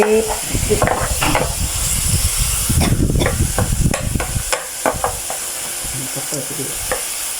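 Chili and garlic stir-fried in a pan for a Thai duck holy-basil dish, a steady close sizzle broken by repeated scraping stirs of a utensil against the pan, with no voices.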